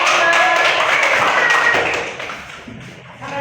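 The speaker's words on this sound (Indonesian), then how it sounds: "Kasih tepuk tangan." Children in a classroom burst into group applause, a dense patter of many small hands that stays lively for about two seconds, then thins out and fades.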